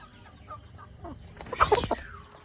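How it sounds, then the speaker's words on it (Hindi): Roosters and hens cluck in a poultry farm pen, soft scattered calls at first, then a louder burst of clucking from several birds close by over a low background hum. "देखिए बेहतरीन मुर्गे अभी हमने इन सबको यहाँ पे रखा है"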